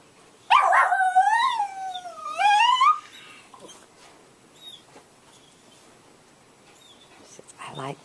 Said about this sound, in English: Stinky dog.